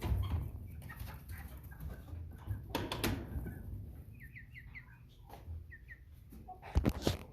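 Young American Bresse chickens, about five and a half weeks old, give quick high peeping calls in a short cluster amid handling thumps and rustling while birds are weighed and sorted into pens, close and moderately quiet.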